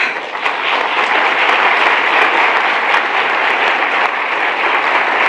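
A large audience at a United Nations speech gives loud, sustained applause, a dense and even roar of clapping that holds steady throughout.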